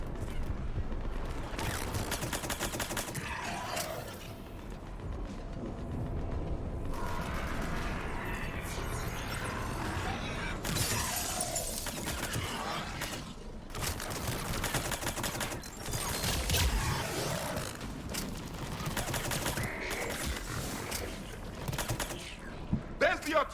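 Continuous battlefield din of artillery and gunfire in the Mass Effect 3 video game, dense bursts and rattling shots filling the whole stretch, with voices speaking over parts of it.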